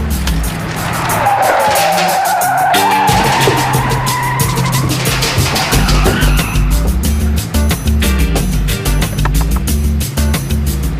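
A car whips through a skidding U-turn on a Chicago street, its tires squealing loudly and at length while the engine roars close by, then settles into a rumbling drive-off.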